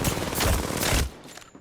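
R99 submachine gun hip-fired in Apex Legends, a loud, dense rapid burst of shots lasting about a second, followed by a quieter tail of reverb and mechanical ticks.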